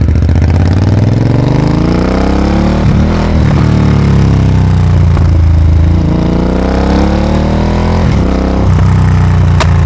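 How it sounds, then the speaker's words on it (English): A 2025 Triumph Speed Twin 1200 RS with a full-system exhaust runs loud and close, its engine note rising and falling through revs, with a brief stumble and abrupt rev change around a missed gear shift. "Yes, I just missed a shift."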